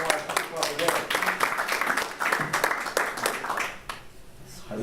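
Conference audience at a wine business research gathering applauding a speaker, with steady clapping throughout the room for about five seconds, mixed with a murmur of voices.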